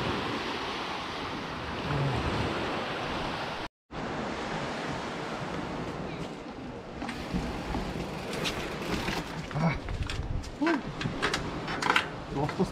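Black Sea waves and surf wash in a loud, continuous roar with wind buffeting the microphone, broken by a brief cut near the start.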